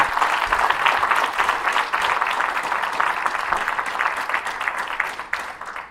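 Sustained applause from the audience at the ICJ Kenya Jurist of the Year award ceremony, a dense, steady wash of many clapping hands that fades slightly toward the end.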